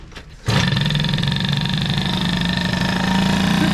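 A Peugeot 103 moped fitted with a Doppler kit and an UltraBOOST cylinder head catches after a hard start, then runs in a loud, steady, buzzing idle close by, with no talk.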